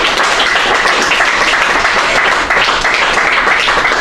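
Audience at a talk on security in the Internet of Things applauding, loud dense clapping sustained throughout with a faint dip near the middle.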